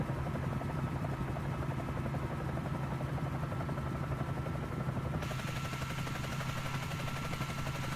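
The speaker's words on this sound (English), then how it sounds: "I love how this thing sounds though" Bell 47J Ranger helicopter in Microsoft Flight Simulator, a steady rapid rotor chop over a droning engine, continuous and even throughout with no voices.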